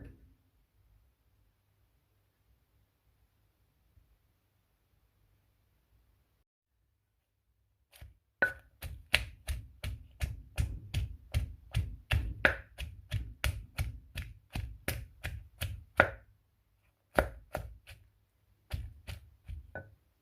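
Chili is pounded in a mortar for a dipping sauce. After several seconds of near silence comes a run of rapid, rhythmic close thuds that pauses briefly and then resumes.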